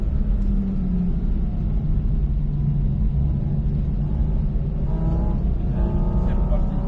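Porsche Cayman 718 GT4 RS on a race circuit, its engine rumbling loudly from inside the cabin and rising in pitch as it accelerates, with people talking over it.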